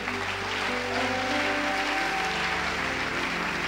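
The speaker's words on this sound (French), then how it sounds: "Acclamons bien la parole de Dieu." Congregation clapping during a French-speaking church service, a steady, dense wash of applause that fills the room evenly for several seconds, with music tones sustained underneath and no voices on top.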